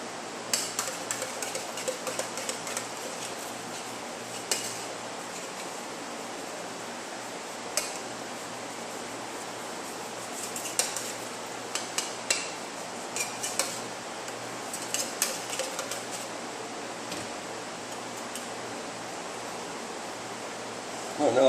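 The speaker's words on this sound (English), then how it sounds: "I'll scrub the inside with a brush" A brush scrubs the inside of a paint spray gun part during cleaning with thinner: a steady, fairly faint hissing rasp broken by small clicks and knocks.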